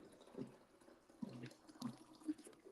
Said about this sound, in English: Y'all about to hear me filling up my water bottle.